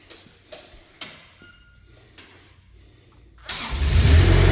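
Kubota diesel engine on a 2024 Manitou TMM45 4W forklift: several sharp clicks and ticks, then the engine cranks and catches into a loud, steady close idle.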